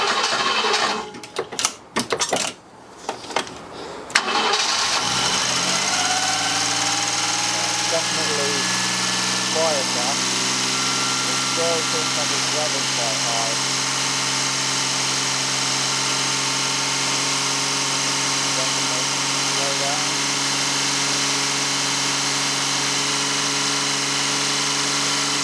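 Old BMW engine that had sat for 30 years cranks with broken bursts, catches and settles into a steady high, fast idle that drones on, with a person talking over it.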